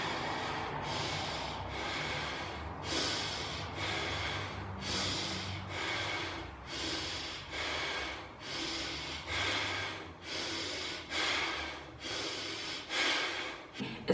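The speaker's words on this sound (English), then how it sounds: "It's breathing in nicely through your nose and forcing the air out through your nose again." Kapalbhati breathing exercise: a quick run of about a dozen sharp, forceful nasal exhalations at a steady rhythm, each a short close snort of air forced out through the nose, separated by brief quieter gaps.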